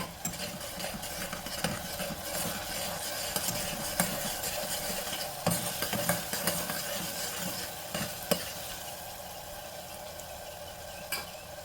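Ginger, garlic, coriander and green chili paste sautéing in a pan for mutton masala, with a soft continuous sizzle and frequent clinks and scrapes of a spoon stirring, fairly quiet and without speech.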